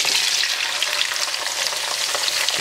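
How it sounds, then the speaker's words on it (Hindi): Bell peppers fry in half a cup of hot oil in a wok over high flame, giving a loud, steady, dense sizzle with faint stirring scrapes throughout and no talking. "और इसको आपने हाई फ्लेम पर फ्राई करना है।"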